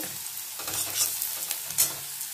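Panch phoron and a pinch of salt drop into hot oil in a pan for a papaya, carrot and masoor dal, giving a soft close sizzle with stirring scrapes and a couple of brighter crackling bursts.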